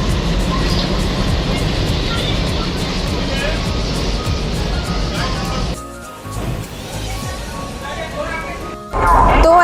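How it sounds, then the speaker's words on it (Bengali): A train pulls into Howrah station with a loud, sustained, broadband rumble and roar over platform voices; the noise drops sharply partway through, then surges again at the end. "আমাদের ট্রেন চলে এসছে"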